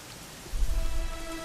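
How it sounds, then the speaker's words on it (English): Steady rainfall in Dragon Quest XI, a soft patter of drops with a low rumble swelling in about halfway through, fairly faint and with no voices. "it was raining like this"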